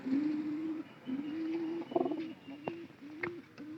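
Pigeons coo in a row of soft, low, throaty calls close by, with a few brief sharper chirps and clicks between them, heard without any talk.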